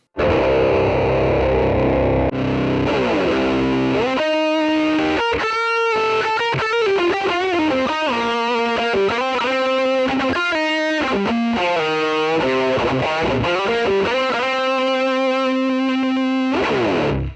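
Electric guitar through a Mooer mini-modeller with the drive block placed before the amp, giving a loud, saturated distorted tone as a run of riffs and sustained notes fills the whole stretch, with no talking.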